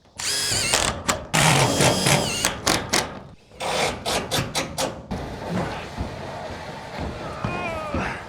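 Power drill driving screws into metal roof panels on a large building, repeated short high-pitched whirring bursts separated by pauses, then a steadier mechanical whine, with no voices over it.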